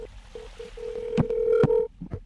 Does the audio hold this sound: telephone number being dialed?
yes